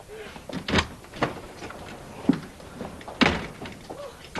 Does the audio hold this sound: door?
yes